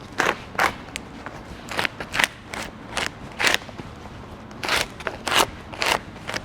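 Duct tape being cut on fiberglass duct with a series of short, sharp snips and crackles spaced irregularly, close and fairly quiet against a faint background.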